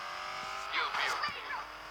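A video game car engine revs while its tyres squeal and skid in short bursts. It comes through near and moderately loud over a steady background hum.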